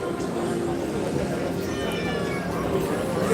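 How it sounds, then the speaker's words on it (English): A cat meows repeatedly at a busy outdoor spot in Da Nang, Vietnam, its cries mixed into loud street and crowd noise. "That cat is still hanging out here."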